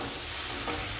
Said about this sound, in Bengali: নাড়িয়ে নিলাম।